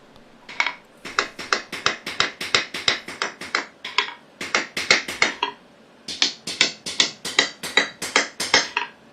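Sharp metallic hammer strikes on round steel stock ring out in a workshop, coming in quick, even bursts of blows with short pauses between groups, close and bright with no talking.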